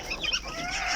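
Fancy backyard chickens of the Silkie, Polish, Frizzle and Brahma breeds cluck and squawk close by while eating, with overlapping chatter over a steady background hum.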